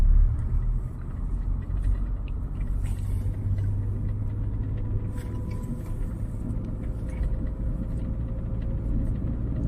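A car in second gear during a driving lesson, a steady low engine rumble and road noise running continuously at an even level from start to finish, with no talk.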